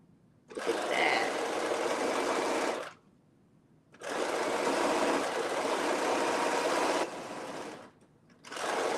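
A sewing machine fitted with a hemming foot runs in loud, steady, whirring bursts of about two to three seconds each, separated by short pauses where the stitching stops.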